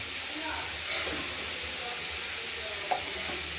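Strips of beetroot, carrot and sweet potato fry in hot oil, giving a steady, close hiss and crackle with a few louder bursts of sizzle and stirring throughout.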